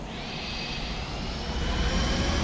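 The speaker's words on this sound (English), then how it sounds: "We got United taxiing out there." Jet airliner taxiing at an airport, a steady, even roar of turbine engine noise with a high whine, holding constant and growing slightly louder throughout.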